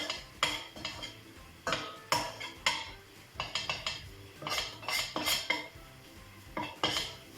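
Flour and bean sauce stirred in a metal pot for Turkish kuru fasulye, a spoon scraping and clinking against the sides in repeated close strokes with short pauses between them.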